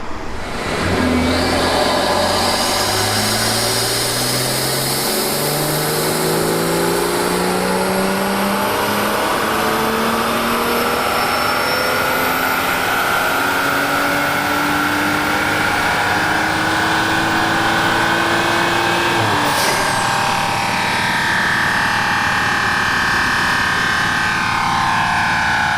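A BMW 435 with the N55 engine and a Turner Motorsports high-flow catted downpipe revs hard on a dyno, the engine note climbing steadily through a long, loud pull before a sharp lift-off near the end, with no talking over it.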